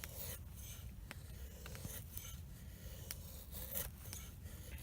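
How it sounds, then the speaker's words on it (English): Cold Steel Finn Wolf knife carving wooden feather sticks with a flat grind, a steady run of close, dry scraping and shaving strokes with a few sharper catches as the blade bites in, no talking. "But the knife does bite in."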